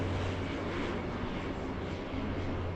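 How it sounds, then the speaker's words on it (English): Airplane at LAX airport with a train-like rumble, a steady broadband roar with a low drone throughout, moderately loud and without talk. "We have the plane that sounds like a train for some reason"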